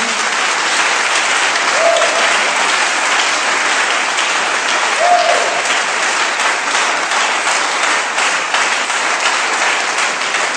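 A church congregation applauding, loud and sustained dense clapping from a large crowd filling the room for about ten seconds without pause.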